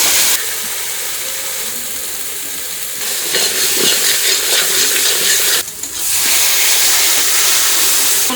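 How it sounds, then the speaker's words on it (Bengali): Black cumin and dried red chilies sizzle and crackle steadily in hot oil, a loud, close, continuous frying hiss with a brief dip partway through, tempering spices for hilsa fish curry. "ইলিশ মাছ রান্না করার জন্য ফোড়নে দেবো কালো জিরে আর শুকনো লঙ্কা"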